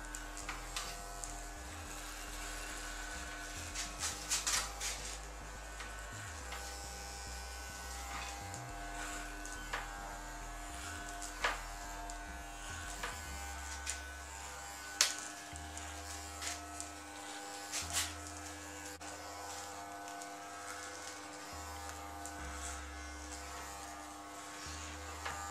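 Electric hair clippers buzz steadily and close up while cutting a man's hair, the motor hum shifting in pitch as the blade moves through different sections, running continuously with no talking.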